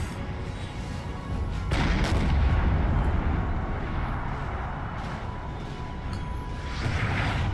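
Continuous artillery fire in the video game Napoleon Total War, a dense rumbling barrage of booms that swells around the second mark and stays loud and steady throughout, with no voices.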